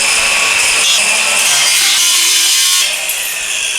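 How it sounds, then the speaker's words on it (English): An aluminum radiator being cut with a saw during a radiator modification, a continuous loud rasping cut that eases slightly near the end, with no talk. "time to cut a little bit off of the other side now"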